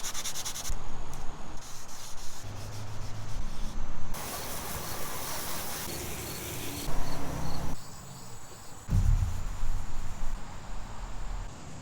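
Close, rhythmic sanding scrapes in uneven bursts of rubbing as black paint is sanded off a Toyota AE86's lights, pausing briefly between passes, with occasional light knocks.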